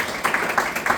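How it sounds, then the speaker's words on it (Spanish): Audience applause for an author at a book event, a brief patter of clapping with soft irregular bursts, moderately loud and with no voices over it. "Un gran aplauso para don Pablo Hilario"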